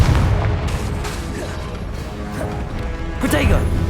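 Blasting Confringo spell explosions in the Hogwarts Legacy video game, loud booming crashes mixed with other combat spell effects and clashing game action throughout the short burst of fighting.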